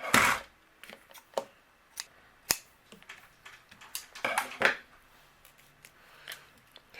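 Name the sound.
scissors trimming the tails of twine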